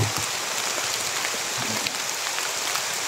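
Heavy rain pours steadily onto surfaces outdoors, making a dense, continuous hiss with scattered drop patters, loud and close with no talking.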